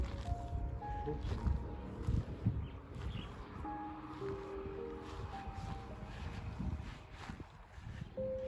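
Wind blows in gusty, rumbling bursts across an outdoor setting by a house, buffeting loudly and continuously with a few faint background tones mixed in.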